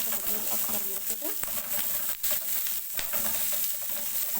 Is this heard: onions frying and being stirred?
yes